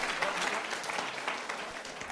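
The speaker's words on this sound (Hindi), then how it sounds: "तालियां मारो" Audience at a live memory-training session at a wedding venue claps steadily, a dense, sustained wash of applause running throughout without pause.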